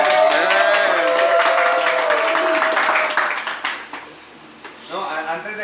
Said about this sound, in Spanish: un fuerte aplauso para Moni y para ella.